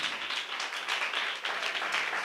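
A church congregation claps hands together in thanks during a Tamil worship service, a steady dense patter of many hands sustained throughout without any voices.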